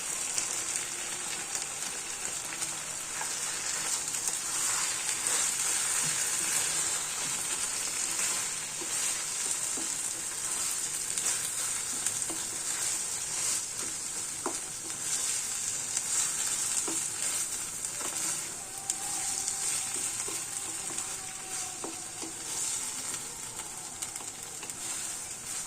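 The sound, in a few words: pumpkin bharta with grated coconut frying and stirred in pan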